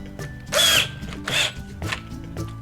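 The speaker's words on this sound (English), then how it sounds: "now we are ready to drill some pocket holes." Power drill boring pocket holes through a WEN metal pocket hole jig: three short, close whirring bursts with quieter gaps between.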